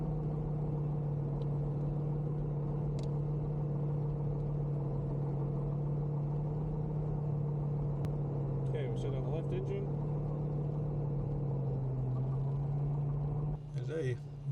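A Rutan Boomerang asymmetric twin-engine aircraft taxis toward a hangar, its engines holding a steady loud droning hum throughout, with brief rattling clatter near the end.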